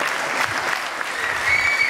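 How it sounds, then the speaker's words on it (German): Steady crowd applause in a comedy show venue after a stand-up set, a dense, continuous wash of clapping throughout with faint murmurs underneath. "Einen großen Applaus bitte!"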